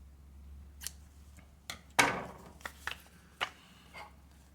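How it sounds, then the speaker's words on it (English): Scissors snip through yarn while finishing a Tunisian crochet headband: a few sharp, close, crisp cuts spaced apart against a quiet room. "So we are going to cut the yarn."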